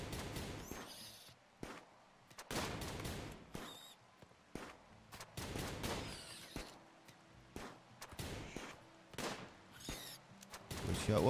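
Gunfire in a video game while shooting porcupines, heard as a steady run of irregular sharp shots and bursts across the whole stretch, fairly faint overall.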